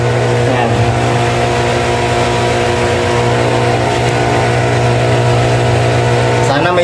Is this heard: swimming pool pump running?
yes